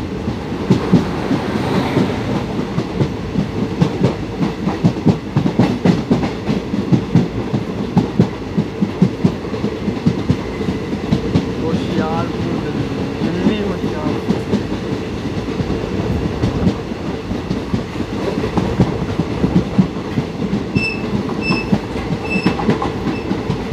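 The Hoshiarpur-Agra Cantt Express on a daily run, heard from on board as steady clickety-clack of wheels over rail joints under a continuous loud rumble, with faint high squeals near the end.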